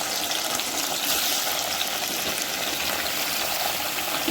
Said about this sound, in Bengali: গরম তেলে ভেন্ডিগুলো খুব ভালো মতো করে ভেজে নিচ্ছি।